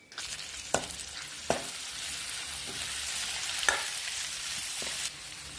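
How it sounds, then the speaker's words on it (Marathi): Onions sizzle steadily in a pan as a tomato goes in, with a few sharp stirring clicks over the constant hiss of frying. "कांदा झाला आता आपण टमाटर ऍड करणार आहे आता एक मोठा टमाटर घेतलाय आपण आता ते टाकू याच्यात"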